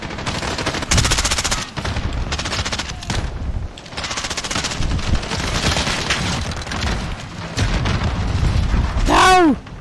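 Rapid automatic gunfire rattles in Call of Duty multiplayer on the Shipment map, loud, dense bursts with short gaps, overlapping shots and a brief voice near the end.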